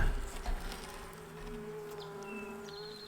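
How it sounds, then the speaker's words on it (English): A low, steady hum of many honeybees buzzing close by at an open hive with frames pulled, with a few louder bumps at the start. "Pretty good little ball of bees here."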